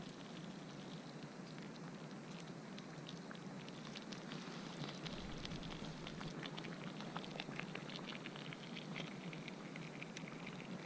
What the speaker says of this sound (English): And then I just put it by the fire and wait until it boils.